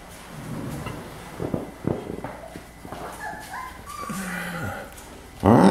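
Beagle puppies whimpering and squeaking softly in short, thin cries over a low background rumble, with a louder thump near the end.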